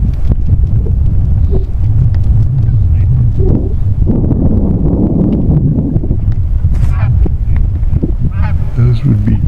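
A flock of geese honking overhead in open desert country, scattered calls rising over heavy wind rumble, moderately distant, with a person speaking.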